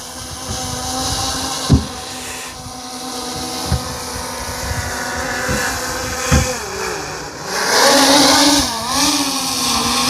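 A drone flies overhead outdoors and comes in to land, its steady motor drone broken by a few sharp knocks, then swelling into a louder, wavering whine near the end.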